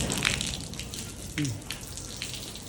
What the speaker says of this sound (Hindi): पानी जो है लगाया जा रहा है।